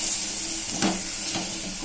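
Fennel seeds fry in hot oil for an egg curry, a steady close sizzle and hiss with a couple of brief stirring scrapes.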